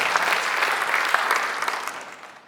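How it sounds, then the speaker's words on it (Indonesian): A church congregation at a Sunday service claps together in a brisk, full burst of applause that gradually thins and fades toward the end. "Beri tepuk tangan bagi Tuhan"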